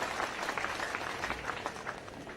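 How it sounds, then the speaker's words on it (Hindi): A crowd at a political gathering in Bhind, Madhya Pradesh claps together to welcome a guest, a steady dense patter of applause at moderate distance with no talk over it. "दोनों हाथ ऊपर उठा के ताली बजा के स्वागत कीजिए, अभिनंदन कीजिए दीदी का।"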